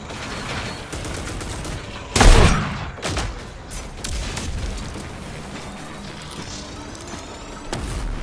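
Powerful guns fire in the shooter game RAGE 2 from id Software: bursts of gunfire and one heavy booming blast amid rattling shots and mechanical clatter, loud and close, with no talk.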